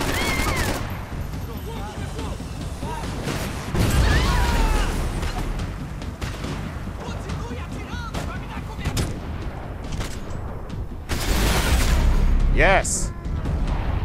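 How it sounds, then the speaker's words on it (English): Heavy blasts and rapid gunfire ring out as a gas station blows up in Max Payne 3, with loud booming bursts rising over a continuous crackle of shots and a person speaking briefly. "Oh, a gas station. I guess I might as well blow it up"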